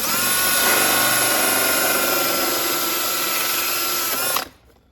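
A power tool whines loudly and continuously while cutting a hole in a Lexus GS 430 dash panel, then abruptly stops, leaving near silence.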